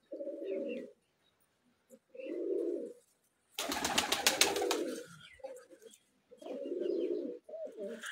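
Pigeons coo in repeated soft, throaty bursts on a rooftop, with a brief louder flurry of wing flapping midway; the calls are close and come in regular phrases separated by short pauses.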